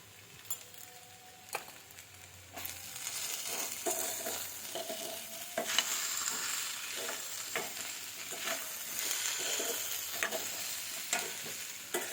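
Potatoes frying in a pan are stirred with repeated scraping strokes over a steady soft sizzle, moderately close and with no talk.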